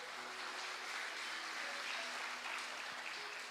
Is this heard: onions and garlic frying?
no